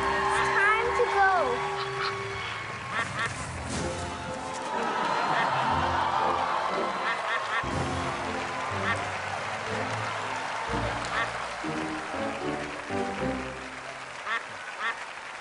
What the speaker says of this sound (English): Friendly duck.